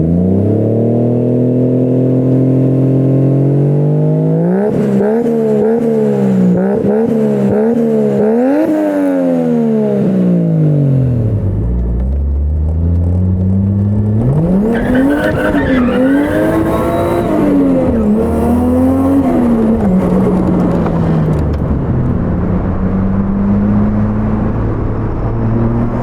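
A Nissan Silvia S14 with a swapped 1JZ engine drives loud and near at night in São Paulo, its smooth inline-six roar rising and falling through repeated revs and gear changes, tires briefly chirping, with no talk.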